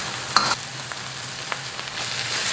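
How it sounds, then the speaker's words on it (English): Lemongrass sizzles and fries in sambal paste in a hot wok for a Vietnamese dish, a steady close hiss with a few sharp stirring clinks and pops. "Now I'm going to cook this lemongrass for about 2 minutes in this sambal paste"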